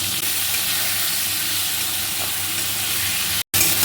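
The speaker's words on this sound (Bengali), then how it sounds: "আলুগুলোকে ভালো করে ভেজে নেব" Potatoes frying in a pan for a fish curry give a steady, dense sizzle with constant hiss, briefly cut off by a short silent gap near the end.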